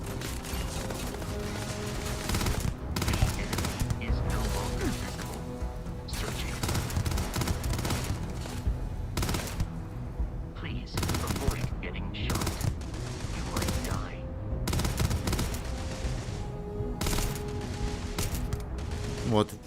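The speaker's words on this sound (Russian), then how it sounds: "Вот, он стреляет по ним." Sustained automatic gunfire in a Starfield firefight, an ally shooting at enemies: dense, continuous bursts with sharp cracks, someone speaking over the fighting.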